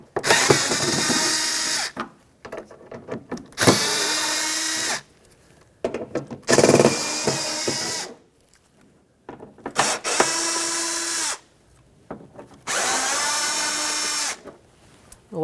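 A power driver removes Phillips mounting screws from a 1992-1996 Toyota Camry fender liner in five separate bursts of whirring, each about one to two seconds long, with quiet gaps between them, close up and with no talk.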